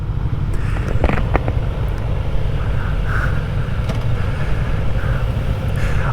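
A Kawasaki ZX-4RR, a small-displacement sport motorcycle, rides steadily with a continuous low engine drone and rushing wind noise. The sound is loud and close, holding constant throughout with faint higher whines rising briefly.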